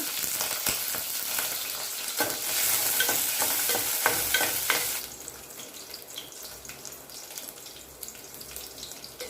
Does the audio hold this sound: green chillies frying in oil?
yes